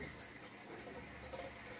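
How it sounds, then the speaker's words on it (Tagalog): Water pours steadily into a fish tank holding a hammerhead hi-fin shark and arowana, a continuous faint splashing gush with no voices. "Nagdadagdag lang po ako ng tubig."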